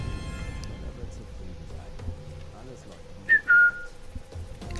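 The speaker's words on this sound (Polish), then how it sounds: "Weźmiemy gwizdek." In Sniper Elite 5, a short two-part whistle rises sharply out of quiet game ambience, clear and fairly near, with scattered talking and faint background noise around it.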